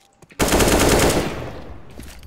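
Loud burst of rapid automatic gunfire in Counter-Strike, a sustained close volley that cuts in sharply and then tails off with echoing decay.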